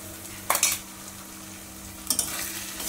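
Spice paste of green chilli, coriander leaves, yogurt, cashews, raisins and capsicum stirred into a hot pan, giving two short bursts of scraping and sizzling about a second and a half apart over a quiet kitchen background hum.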